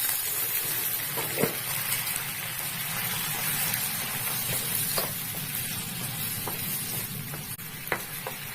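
A pinch of water hits potatoes frying in a pan for a curd curry and they hiss, a steady close sizzle with occasional stirring clicks and pops, no voices.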